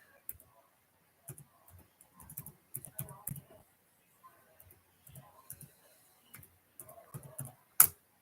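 Typing on a computer keyboard in a quiet room, sparse clusters of soft key clicks in irregular bursts, close and faint, ending with one sharper click.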